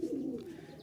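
Giribaz pigeons coo softly, one faint, low, throaty coo.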